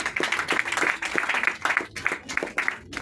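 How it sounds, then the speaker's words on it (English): A church congregation claps for Jesus during a sermon, a dense run of many hands striking in quick, uneven bursts at moderate volume for about three seconds, with no one talking over it. "Let's clap for Jesus."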